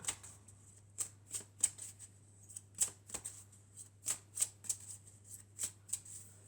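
Tarot cards are shuffled and cut in a quiet room, about a dozen crisp riffling snaps spaced irregularly over a faint steady hum, with no talking.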